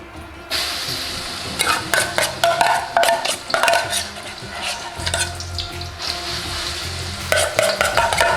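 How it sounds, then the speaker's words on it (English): Garlic and ginger sizzle loudly in a hot pan for a lentil dhal for restaurant-style curry, broken by bursts of metal spoon scraping and clattering stirs, close and busy throughout. "we're going to go in with a couple of chef spoons of garlic and ginger"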